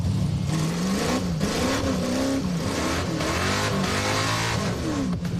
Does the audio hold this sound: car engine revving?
yes